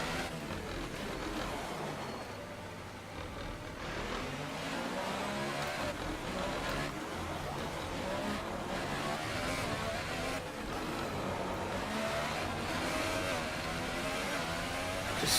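A Formula 1 car engine in F1 2018 at the Monaco Grand Prix drones and revs continuously, rising and falling with gear changes, moderately loud and steady throughout with no talking.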